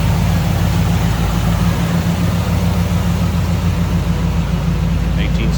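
1977 Chevrolet C10 Cheyenne short box with a 350 engine, 4-barrel carburetor and HEI ignition, idling with a steady, loud low rumble and a constant hum.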